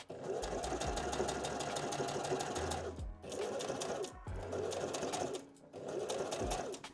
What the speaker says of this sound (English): then I'll top stitch along the edges of the leaves